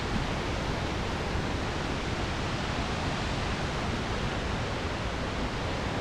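Chambers Creek falls roar in a dense, steady rush of water, loud and close throughout, with no voices.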